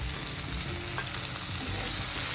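Tomato and Kashmiri red chilli powder fry in hot oil for Solapuri usal, a loud, steady close sizzle with a faint stirring clink, no voices.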